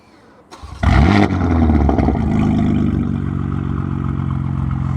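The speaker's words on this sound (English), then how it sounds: "just remote start the car. That way we get AC going, you can hear the catless exhaust." A 2026 BMW M4 with a catless single mid pipe and FI exhaust fires up by remote start, with a sharp loud bark that settles into a steady, rumbling idle close by.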